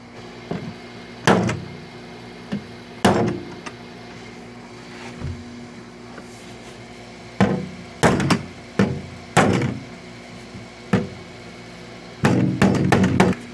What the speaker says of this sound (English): we're going to use the old hammer adjuster and straighten this out